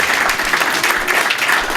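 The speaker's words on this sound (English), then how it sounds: "Stand up and get a round of applause just for that." An audience applauds steadily at a local historical society gathering, a dense wash of clapping hands running unbroken for the whole stretch, moderately loud and close.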